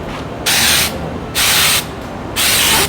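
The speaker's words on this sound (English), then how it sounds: "Now I just need to see if I need to wait for this to dry before I spray this" Spray paint can used on a home decor item, three loud, close hissing bursts of roughly half a second each, separated by short quiet gaps.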